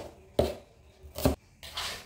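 A knife chops ingredients on a cutting board before they go into a blender for Indonesian pepes ikan mas, a spiced fish dish. Three separate, sharp, fairly quiet strikes land with short pauses between them.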